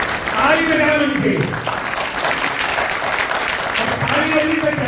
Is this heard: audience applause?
yes